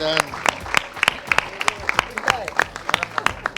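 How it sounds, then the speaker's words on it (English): Women seated at a Lifebuoy launch event give a brisk round of applause, crisp claps rattling steadily while a voice talks over them throughout. "Please give her a round of applause,"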